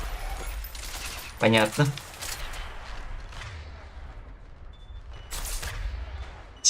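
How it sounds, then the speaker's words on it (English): Gunfire in the sci-fi shooter Mass Effect 3 comes in scattered sharp bursts over a low background rumble, with a brief spoken word from a player. "Кто в кого стреляет?"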